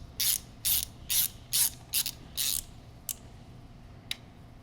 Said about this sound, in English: you'll take your 5/32 Allen wrench bit on the front, and you'll just need to loosen, and then repeat on the opposite side